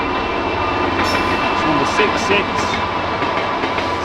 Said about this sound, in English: That is a GBRF Class 66.